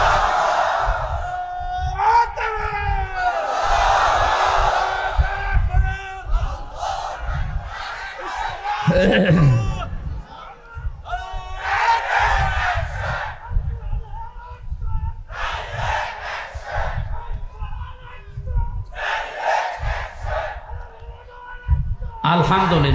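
Large crowd at a Bangla Islamic waz sermon roaring a takbir response to the preacher, loud massed shouting in repeated bursts mixed with a voice speaking over the gathering.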